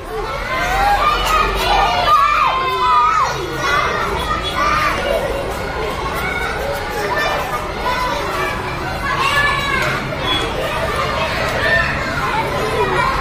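Children shout and chatter loudly while playing the horse-riding game, a lively overlapping crowd of young voices across the whole stretch, with surges of yelling and no pause.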